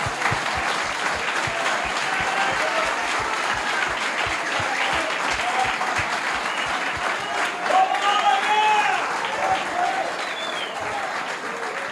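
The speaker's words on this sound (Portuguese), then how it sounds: "Vamos dar um aplauso por essa palavra." A church congregation applauds during a Portuguese-language baptism sermon, a loud sustained clapping crowd with rhythmic beats in the first half, and voices and cheers rising toward the end.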